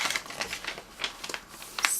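Backing paper peeling off adhesive contact paper while it is smoothed onto a corner shelf gives a run of close crinkling and light crackling bursts, irregular and fairly soft, with no talk.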